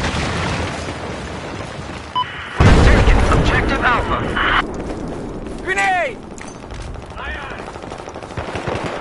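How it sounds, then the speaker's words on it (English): A grenade explodes in Battlefield 4 with a loud, sharp boom near the three-second mark, amid surrounding machine-gun fire, whizzing sounds and in-game voice callouts. "Grenade!"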